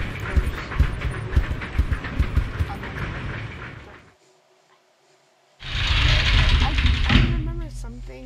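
A train rumbles steadily in Resident Evil 0 with a dense, rattling roar, then cuts to near silence for about a second and a half before the heavy rumble returns just as loud.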